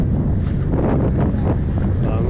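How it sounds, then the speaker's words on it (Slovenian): Strong bora wind of about 25 knots roars steadily across the microphone aboard a Lagoon 42 catamaran sailing in Croatia, a loud continuous rush and buffeting with water noise beneath and no break. "približno 25 vozlov je burje danes"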